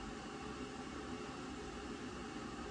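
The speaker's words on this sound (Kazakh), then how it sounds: "Заодно біз қойған чайниктің дауысын ести аласыздар." An electric kettle heats water nearby, giving a steady, even hiss that stays faint throughout with no voices.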